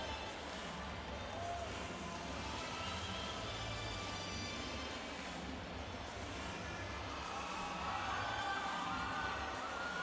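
Crowd noise in a packed arena before the women's 50m freestyle S8 final at the Rio 2016 Paralympic swimming, a steady roar of voices and shouting that stays loud throughout, with a slight swell near the end.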